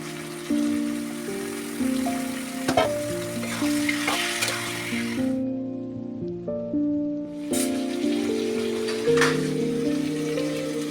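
Chicken pieces frying in a pan with green chilli and chilli paste, a steady loud sizzle with stirring clatter and a brief quieter lull midway.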